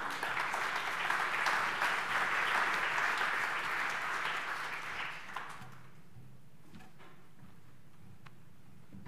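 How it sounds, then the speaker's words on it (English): Conference audience applauding two speakers, a full clapping burst that holds steady for about five seconds, then fades out into quiet room tone with a few scattered claps. "Let's give a big round of applause for these two gentlemen."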